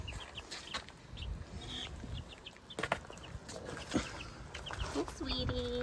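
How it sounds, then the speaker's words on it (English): A friendly baby hen chick peeps in short high chirps scattered through the clip, close by, while people talk over it in a homestead setting. "Okay, this is Sweetie. She's one of our friendly chicks"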